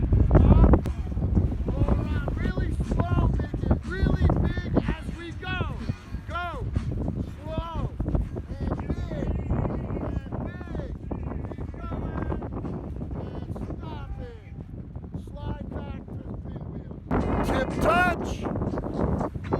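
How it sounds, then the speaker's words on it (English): Strong wind at a seaside kite festival buffets the microphone with a loud, steady rumble that never lets up, while a person talks right through it. "It's so windy you probably can't even hear me right now, but jeez, it's so windy and it is pretty cold."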